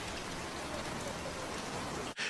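Steady rain falls in a continuous, even hiss of drops on a surface, dense and close throughout, with a brief dip and louder patter right at the end.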